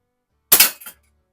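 A single sharp pop from a Crosman Hawthorne M130 .22 multi-pump air pistol, close and loud, with a brief second report trailing just after, then silence.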